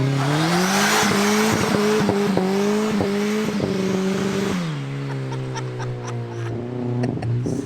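A turbocharged 1.8 Toyota Yaris SR engine revs hard and close, with rising and falling throttle blips, then drops back to a steady, rough idle.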